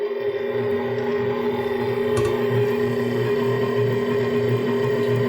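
A VIVOHOME 6.7-quart, 800-watt stand mixer runs on speed 1 mixing bread dough with flour and yeast, giving a steady, continuous motor hum with a rhythmic low churning throughout, with no talking.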